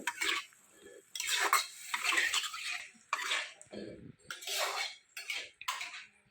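Boiled potato being mashed and stirred in a pot in a village kitchen, with irregular scraping and clattering bursts of utensil against metal, fairly close, with faint talk in the background.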